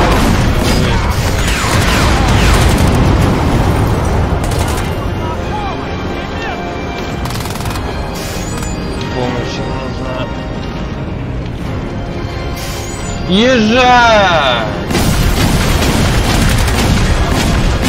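Game combat from Crysis 2 with booming blasts and crashes in a dense, noisy firefight, plus a sweeping whoosh near the end, all under talk; grenade explosions are not clearly separable from the general din.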